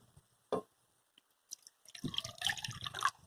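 One cup of water is poured outdoors on a windy day, with a short splash, a pause and then a longer, louder gush of water running into a container near the microphone.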